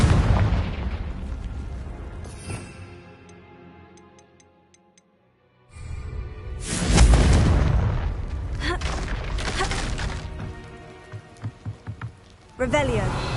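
Confringo blasting spell explosion in Hogwarts Legacy on PS5 Pro: after a near-silent lull, a loud close burst erupts and rolls on with crackling debris and rumbling, followed by a few sharper impacts and another blast near the end.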